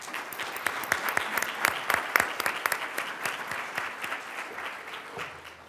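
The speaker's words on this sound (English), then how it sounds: "Please join me in giving them applause." A crowd claps steadily, dense applause with sharp individual claps, fairly close, gradually thinning toward the end.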